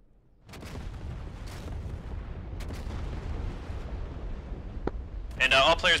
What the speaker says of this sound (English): we're taking indirect fire. It's landing just south of the town.